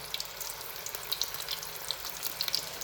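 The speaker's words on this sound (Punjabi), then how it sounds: "ਹੁਣ ਆਪਾਂ ਇਹਦੇ ਵਿੱਚ ਪਕੌੜੇ ਪਾ ਕੇ ਫਰਾਈ ਕਰ ਲੈਨੇ ਆ" Spinach pakoras frying in hot oil, giving a steady close bubbling sizzle with small crackles and pops throughout.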